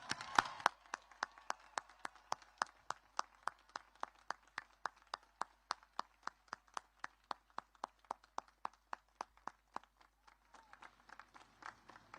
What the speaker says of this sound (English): Please join me in a heartfelt round of applause.